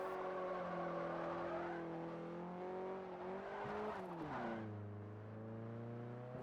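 A 2012 Jeep Wrangler Rubicon with a 3.6-litre V6, driven in the Forza Horizon racing game, drones steadily, then revs and shifts sharply around the midpoint and settles into a lower, continuous engine note. No one speaks.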